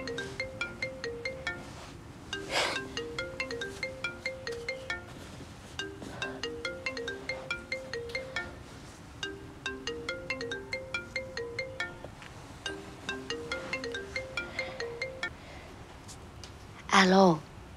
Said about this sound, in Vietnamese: điện thoại của ông Đỗ Văn Ngọc.